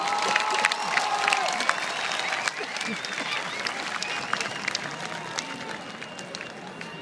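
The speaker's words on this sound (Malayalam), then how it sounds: "ഇത്രയും മനോഹരമായി നൃത്തം അവതരിപ്പിച്ച ഈ വനിതകൾക്ക് മനോഹരമായ ഒരു കൈയടി" Audience applause for women who performed a Thiruvathira dance at a large Akaf mega event in Dubai: dense, sustained clapping from a big crowd, steady and slightly tapering over several seconds, with a voice faintly underneath.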